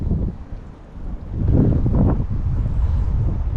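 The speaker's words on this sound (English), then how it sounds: "As you can see, it's getting a bit more windy now." Wind gusts across the microphone beside a lake at a pike fishing spot, a constant low rumble that builds and buffets, with no voices.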